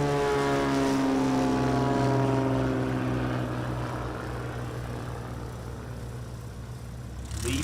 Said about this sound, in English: He's going to climb out now safely and securely.